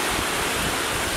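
Mediterranean Sea waves wash onto a beach at Valencia, Spain, a steady broadband rush of surf that continues unbroken throughout, fairly loud with wind noise on the microphone and no talking.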